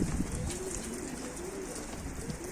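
Pigeons coo steadily in a coop during a visit, a soft continuous layered cooing from several birds filling the whole stretch, with no talk over it.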